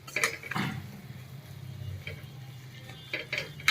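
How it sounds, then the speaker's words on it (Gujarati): Flour roasting in ghee for Gujarati jaggery adadiya while it is stirred in a pan, with soft scraping strokes and a few light clinks of the spoon over a faint low sizzle, all close and without talk. "આપણે આને હલાવતા જઈને એકદમ સરસ ગોલ્ડન બ્રાઉન થવા દેવાનો છે"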